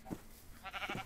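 A sheep in a garden video game gives two short bleats in quick succession, soft and fairly close, against quiet background with no talking.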